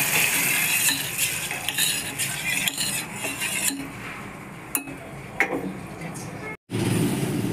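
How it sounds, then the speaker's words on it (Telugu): A spoon stirs a garlic tempering into cooked lentil dal in a metal pot, making repeated clinks and scrapes over a faint sizzle. There is a brief silent break near the end. "ఇప్పుడు ఇందులో కలుపుదాం."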